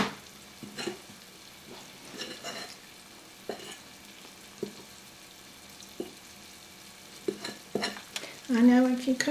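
Cube steak pieces frying in a pan, a quiet continuous sizzle with scattered taps and shuffles of the meat, growing busier near the end.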